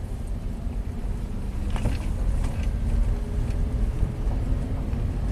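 A Honda car's transmission, stuck in first gear at about 100k miles, strains to shift. The engine and road noise drone steadily throughout, with a brief change in tone partway through and no talking.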